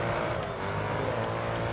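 Audi race car pulling away in GRID Autosport, a brief steady engine drone with a faint tonal whine, no voices.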